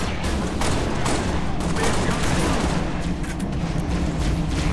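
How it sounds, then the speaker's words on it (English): Heavy gunfire in the Halo: Reach video game, dense continuous automatic bursts and blasts filling the clip loudly, with a voice faintly underneath. "I'm under fire!"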